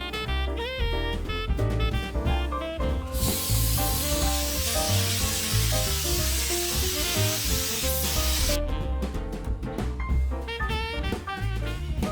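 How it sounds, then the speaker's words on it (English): A long continuous hiss of fake snow aerosol spray on an artificial Christmas tree runs for several seconds over loud background music, stopping and leaving only the music. "spray the tree with the fake snow"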